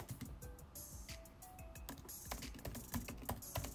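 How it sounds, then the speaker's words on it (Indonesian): Fingers type on a computer keyboard in quick, irregular runs of clicky keystrokes, fairly faint and close, with brief pauses between bursts. "Kenapa saya sampai ngetik nih"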